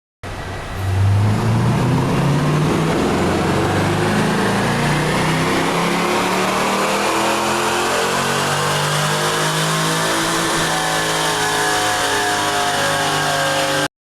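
An engine on a dyno with ignition timing set to 26 degrees, revving up in one long continuous pull, loud and close, pitch climbing steadily throughout.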